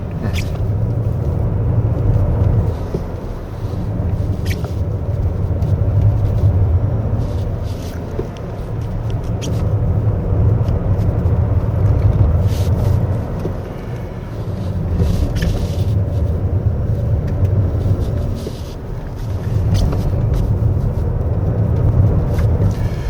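A 2024 Toyota Crown 2.4 Dual Boost hybrid engine drones from inside the cabin on a winding road, its low rumble swelling and easing in repeated waves as the car speeds up, with no talking.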